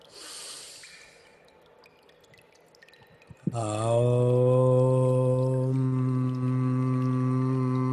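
One deep inhalation, close and airy, lasts about a second. Then a pause, and a loud, sustained ringing tone takes over.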